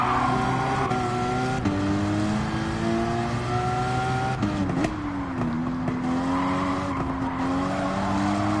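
A GT4 race car lapping Laguna Seca in Gran Turismo 7, engine tone climbing and dropping through gear changes, with tire squeal through corners, loud and continuous.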